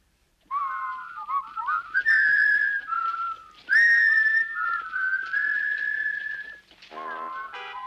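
Someone whistles a lively tune in a Lucky Luke cartoon, clear and close, with sliding and warbling notes running for several seconds before ending in quick trills.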